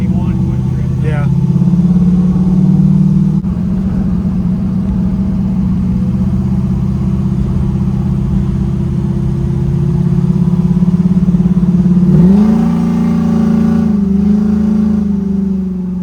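Cammed 5.3-litre engine in a 1968 Chevelle pulling under acceleration: a steady loud low rumble heard from inside the car, rising in pitch near the end, with people talking over it.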